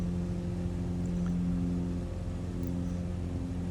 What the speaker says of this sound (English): Engine is sounding fine. Give it more power.